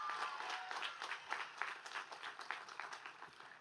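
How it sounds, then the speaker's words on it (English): A crowd at a high school commencement ceremony claps for honored teachers, a sustained round of applause filling the hall and tapering slightly toward the end. "Let's give them a round of applause"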